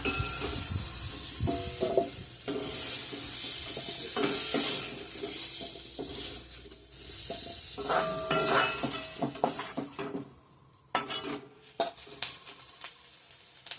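Food sizzles and fries in a pan while a utensil stirs and scrapes repeatedly, with occasional clinks and no talking.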